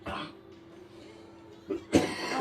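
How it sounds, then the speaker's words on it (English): A few short, sharp coughs from one person, close by, separated by brief quiet pauses. "He's coughing."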